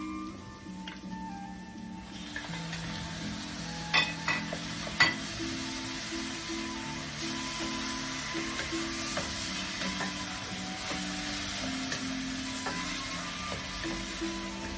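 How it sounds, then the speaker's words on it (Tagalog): Ground beef sizzles and fries in a pan with onions and garlic for spaghetti, a steady crackling hiss punctuated by a few sharp utensil clinks early on. "Pwede na natin ihulog ang ating ground beef."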